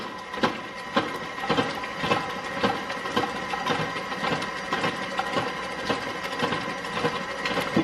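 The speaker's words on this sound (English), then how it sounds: "our cream cheese has been whipping for about 2 minutes now" An electric mixer whips cream cheese with sweetened condensed milk for banana pudding, a steady mid-pitched motor whir with rhythmic thumping pulses about twice a second as the beaters turn through the thick mixture.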